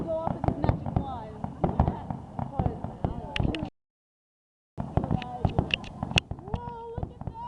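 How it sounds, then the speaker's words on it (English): Canada Day fireworks in Orillia in 2011 burst in a rapid stream of crackling pops and bangs, loud and close, with people talking over them and a brief silent gap in the middle. "It's like, that's like Harry Potter's fireworks right there"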